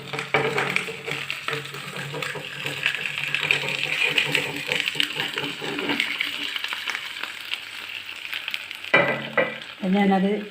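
A flipped piece of chapati-style flatbread frying in a pan, producing a steady close sizzle that runs continuously, briefly interrupted near the end by a short clatter of handling.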